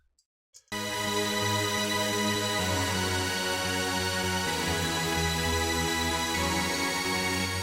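After a couple of tiny clicks, a full EDM synth pad chord enters and holds steadily, shifting notes partway through, loud and continuous with no voices.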